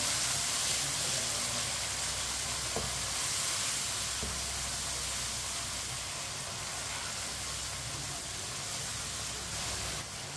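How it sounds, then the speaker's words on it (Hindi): Turmeric powder, cumin seeds and red chili sizzle in hot oil for a tinda sabzi, a steady, close, even crackling hiss that holds for the whole stretch with no talking. "एक मिनट के लिए पका लिया मैंने मसालों को।"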